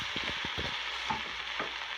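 Spinach is stirred in a hot pan under a steady, hissing sizzle, with several soft scraping strokes of the utensil in the first half, close and continuous.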